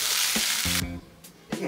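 Veg hakka noodles tossed and stir-fried in a hot pan, loud close sizzling broken by brief pauses and bursts as the food is flipped.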